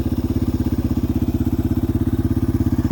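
A Yamaha TW200 motorcycle rides over frozen winter ruts, its single-cylinder engine thumping in a loud, steady, rapid pulse close to the listener, with no speech.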